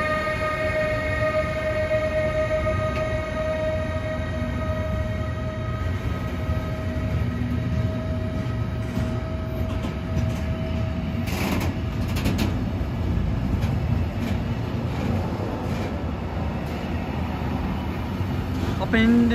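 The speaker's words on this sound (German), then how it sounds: "Schöne Lok." A locomotive-hauled train rolls through Gießen station with a steady, loud rumble of wheels and engine and a sustained horn-like tone, while someone speaks briefly over it.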